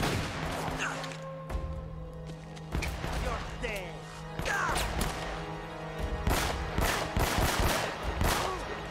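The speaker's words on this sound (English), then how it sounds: "where is that shot coming from?" Rapid bursts of gunfire in the video game Uncharted: Drake's Fortune, sharp repeated shots over a steady game hum, with people talking throughout.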